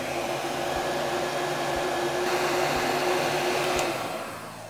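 A heat gun blows a steady, even whoosh while shrinking heat shrink tubing over a soldered wire joint, running continuously at close range with no talking.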